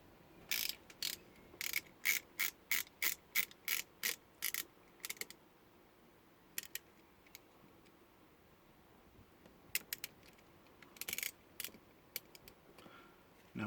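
Tiny fiddly screws on an awning light switch are tightened by hand, giving close, quiet bursts of rapid ratchet-like clicks. A long run of clicks is followed by a pause, then shorter scattered clusters.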